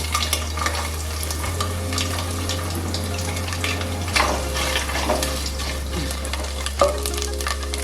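Chopped coconut pieces frying in hot oil in a pan, a steady close sizzle with occasional stirring scrapes over a constant low hum, no talking.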